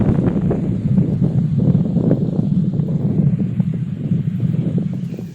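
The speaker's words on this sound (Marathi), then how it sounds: "वारा सुटला." Strong wind blowing against a window of a house, a steady low roaring rush with gusty buffeting that stays loud and close throughout.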